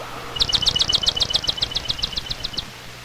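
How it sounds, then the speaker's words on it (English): A swamp sparrow in a marsh gives its simple trill: a steady run of about sixteen evenly spaced, bright chip notes lasting a couple of seconds. Low background hum sits underneath. "The swamp sparrow gives its simple trill."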